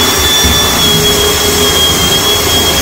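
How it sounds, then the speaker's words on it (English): A tool grinds a cracked brass tap seat, producing a steady, close high-pitched whine with a constant buzzing drone underneath and no break throughout. "So that's just grinding the brass"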